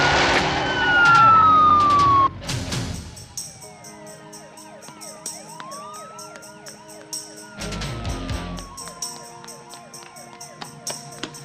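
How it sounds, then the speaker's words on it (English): A police siren wails with rising and falling sweeps near a Hollywood street, loud and continuous across most of the stretch, mixed with engine rumble and other street noise. "I heard a siren."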